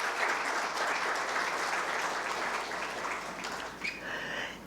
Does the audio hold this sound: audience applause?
yes